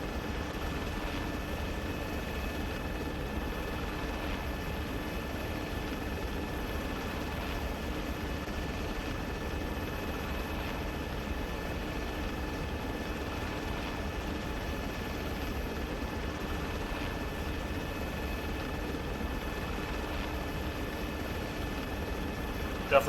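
Black Hawk helicopter in Arma 3 drones steadily in flight, a continuous even rotor and engine hum held for the whole stretch, with occasional quiet voice chatter beneath.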